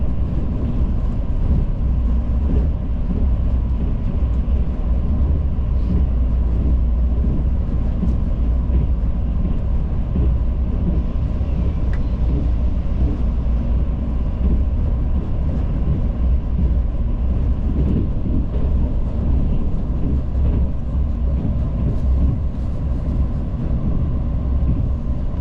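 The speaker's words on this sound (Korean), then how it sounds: "옥천역을 앞두고 열차는 경부선 지탄역과 이원역을 차례대로 통과합니다" Interior ride aboard a Mugunghwa passenger train on the Gyeongbu Line near Okcheon, with a steady loud low rumble and rolling rail noise continuing throughout, no talk.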